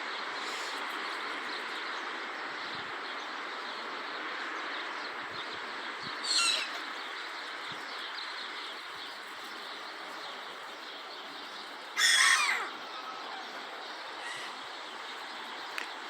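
Seagull calls out over steady outdoor ambience, with two distinct loud bursts of calling, the first near six seconds and the second near twelve, and faint smaller birds such as sparrows chirping in the background.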